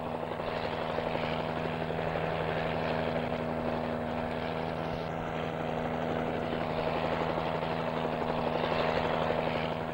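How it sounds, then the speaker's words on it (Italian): Helicopter arriving at a desert oil camp: a steady, loud rotor and engine drone with a constant thrumming hum, continuous throughout with no voices. "l'elicottero giunge a destinazione."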